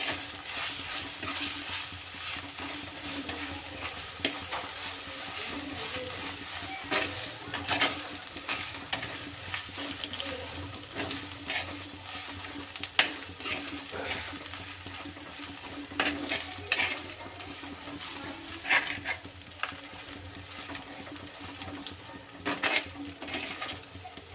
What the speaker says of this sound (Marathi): छान भाजून घेऊया तेलामध्ये म्हणजे आला आणि लसणाचा कच्चेपणा पूर्ण निघून गेला पाहिजे